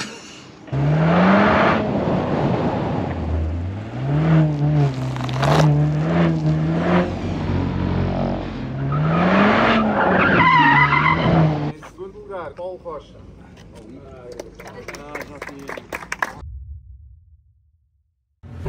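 A Mercedes drifting on the Autódromo Internacional do Algarve track, its engine revving up and down in repeated sweeping surges with tyre skidding, close and loud before fading to a quieter stretch of scattered clicks and knocks.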